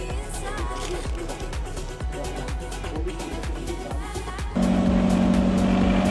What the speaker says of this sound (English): the boat had a loud engine as they used the recycled diesel engine from a bus